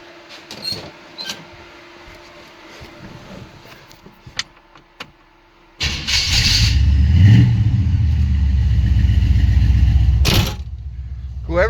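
After quiet clicks and shuffling, an abandoned 1979 Chevy Impala engine cranks and catches, then roars and revs loudly for several seconds before dropping back to a lower idle.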